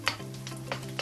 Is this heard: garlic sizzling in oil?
yes